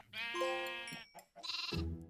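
Sheep in Minecraft bleat twice in close succession, long wavering baa calls that are loud and near, with no talk over them.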